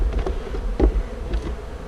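Close, steady buzzing of honeybees, droning continuously with a few louder passes near the ear.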